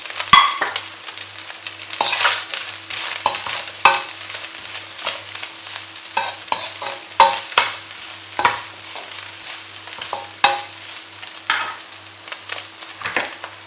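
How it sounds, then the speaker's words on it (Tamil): Fried chicken and capsicum are tossed in a hot pan, with sizzling oil under repeated sharp scrapes and knocks of a spatula stirring at an uneven rhythm, close and fairly loud with no talking. "இப்போ இதில் வறுத்த சிக்கன் ஆட் பண்ணுறேன்."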